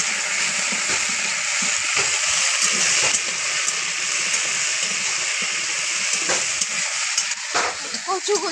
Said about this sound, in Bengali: একটু হলুদ দিয়ে দেব, দিয়ে আমি আলু কচুটা ভালো করে ভেজে নেব